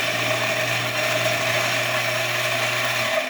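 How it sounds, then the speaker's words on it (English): A Ceado coffee grinder runs while set coarse for calibration, a steady close mechanical whir and hum lasting throughout with no talking. "you want to run the grinder while doing it"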